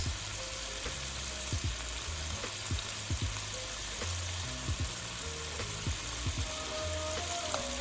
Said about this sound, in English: I'm just going to let these cook and brown on both sides